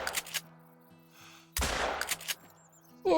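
Shotgun blasts from a 12 gauge in the hunting game Call of the Wild: a sharp shot near the start, a louder booming report in the middle with a decaying tail, and another burst at the end, over a low game ambience.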